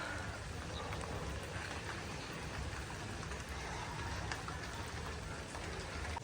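Steady morning rain falls in a dense, even hiss heard from a rooftop, continuous and moderately faint with no pauses or distinct drops standing out.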